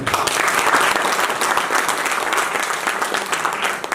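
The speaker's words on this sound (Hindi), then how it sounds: "अब आप एक जबरदस्त तालियां बजा दीजिए" Enthusiastic audience applause for sponsors at a K2pools achievement event, a loud, dense wash of many hands clapping steadily throughout, close and sustained with only faint crowd murmur beneath.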